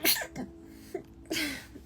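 A couple of close sneezes burst out with breathy sharp bursts and a short pause between them, with no talking.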